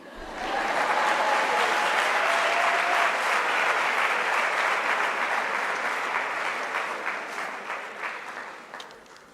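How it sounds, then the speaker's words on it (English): Sustained audience applause at a University of South Africa autumn graduation ceremony, a broad even roar of many hands that swells quickly, holds for several seconds and slowly tapers, with faint voices underneath. "clap hands for me for what I also don't know"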